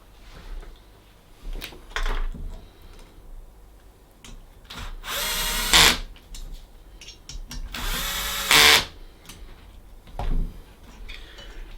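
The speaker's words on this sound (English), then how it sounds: "a drill which will hopefully make this whole process" A power drill driving screws while a Creality Ender 3 Pro 3D printer is assembled: two loud, close whirring bursts of a few seconds each, with quieter handling clatter and knocks in between.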